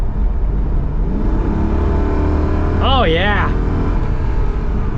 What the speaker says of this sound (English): V8 power.